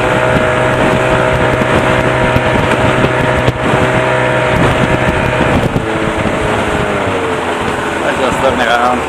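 A 1982 Evinrude 35 HP outboard motor drives a 14 ft V-hull boat, giving a loud, steady buzzing drone with strong harmonic whine, buffeted by wind noise, and the pitch shifts near the end as the boat turns.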